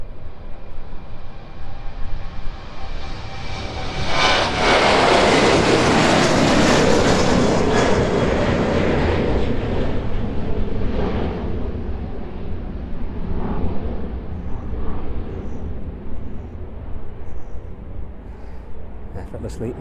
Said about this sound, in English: Effortlessly making its way out of East Midlands and off into a very bright evening sky.